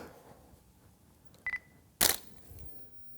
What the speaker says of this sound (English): And let's take another test shot.